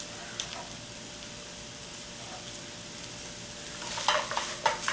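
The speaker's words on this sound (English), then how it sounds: "But now I'm going to add the spring onions or the scallion." Spring onions, or scallions, sizzle in a hot pan and get stirred while making TVP vegan lettuce wraps, a steady close fry with brief scraping clatter toward the end.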